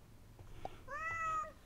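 A single short cat meow from Super Auto Pets rises and falls, faint and brief against a quiet background, with no talk.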